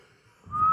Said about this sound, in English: Oh no, I still could have whistled.